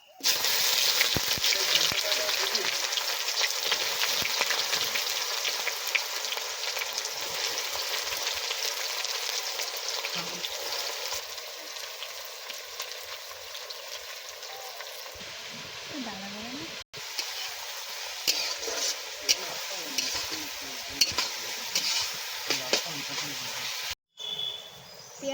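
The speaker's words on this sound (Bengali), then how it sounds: "গরম মশলাটা তেলের উপর পেঁয়াজটা দিয়ে দেবো" Onions with garam masala and a little sugar fry in hot oil for a meat curry, giving a loud, continuous sizzle with stirring and short drops in level while a person talks over it.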